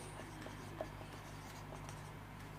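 Pen or chalk writing during a maths lesson on coordinate geometry, soft faint scratching strokes with a small tap, under a low steady room hum and no talk.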